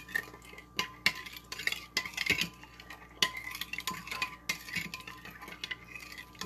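Juice being stirred into flour in a bowl, heard as irregular scraping and clinking of a utensil against the bowl with soft wet mixing sounds, close and fairly quiet, without talk.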